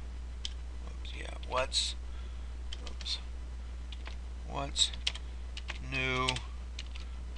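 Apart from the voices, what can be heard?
typing on a computer keyboard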